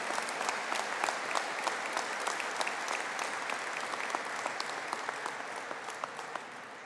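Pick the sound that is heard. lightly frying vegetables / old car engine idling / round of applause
round of applause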